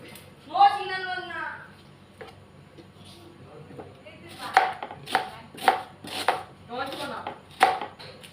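Knife chopping onions into small pieces on a board for potato biryani, a few sharp, close chops in a loose run, with a voice speaking before and between them.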